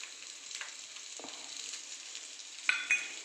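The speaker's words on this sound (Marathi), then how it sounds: "जास्त नाही एक दोन मिनटं फक्त मी आता याला फ्राय करणार आहे" Cumin seeds frying in a pan for a coconut and garlic chutney give a steady, soft sizzle throughout, with a few sharper crackles and a light scrape near the end, with no talking.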